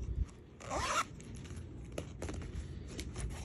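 A zipper is pulled in one quick, close rasp, followed by quieter rustling and handling noises.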